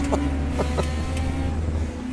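Onboard engine drone of a 1992 DTM touring car, BMW or Mercedes, in a sim racing game at the Hungaroring, a steady low hum with a few brief sharp blips over it.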